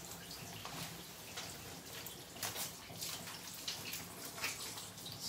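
Running water rinsing a Coton dog in the bath, a continuous soft splashing stream with uneven surges as the water flows over the coat, close and steady with no talking.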